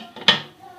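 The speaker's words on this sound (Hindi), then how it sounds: "कुकर का ढक्कन है ना, वो मैं बंद कर देती" A metal pressure cooker lid set down and closed in a home kitchen, giving one short, bright clank with a brief metallic ring that quickly fades, close by.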